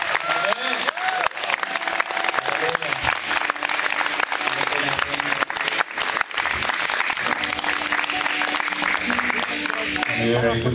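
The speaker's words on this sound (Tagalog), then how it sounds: "Yung palakpak po ng bless na bless." A congregation at a Filipino church camp gives sustained applause for a family called up front, a thick, continuous roar of clapping lasting around ten seconds with some crowd noise underneath.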